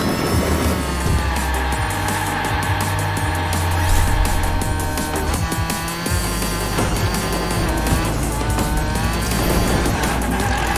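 Toy race cars roar and whine in a Hot Wheels Unleashed race as a car drifts and hits nitro; engine noise is dense and continuous with music-like tonal layers throughout.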